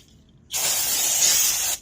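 A single steady burst of aerosol brake cleaner on a Lexus RX350 rear brake hisses loudly at close range for over a second, then cuts off.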